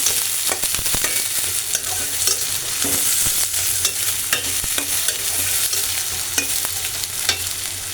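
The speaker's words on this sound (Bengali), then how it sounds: "তেলা মাছের শুটকি একটু ভাজা ভাজা করে নিলেই তেজ মরিচের সাথে" Dried fish (shutki) fries loudly in oil while being stirred, with a dense, close sizzle broken by repeated scraping and clattering stirs.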